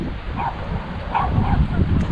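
A dog barking outdoors at a wharf in Bodega Bay, a few short muffled yips and barks over steady wind and background noise.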